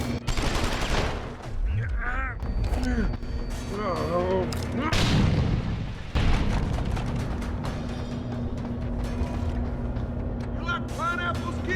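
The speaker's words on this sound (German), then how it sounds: "dem werfen wir als erstes mal eine Granate an den Kopf" A grenade blast and gunfire in Deus Ex: Human Revolution, with heavy booms and crackling shots under steady game ambience while someone talks over the action.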